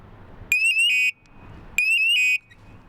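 A firefighter's SCBA PASS device alarm, triggered by hand, sounds twice as loud, shrill rising electronic tones, each burst lasting about half a second before cutting off, with quiet gaps between.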